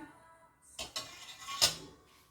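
A metal rice spoon taps and clinks against a cooking pot as salt and seasoning go in for steaming corn, a few soft, close, ringing knocks with a brighter clink near the end, faint and unhurried.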